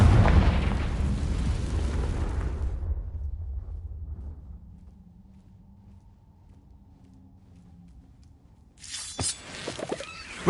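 A Confringo spell in Hogwarts Legacy goes off with a loud, deep boom that rumbles and fades over a few seconds into near silence. Then comes a short burst of sharper crackling pops.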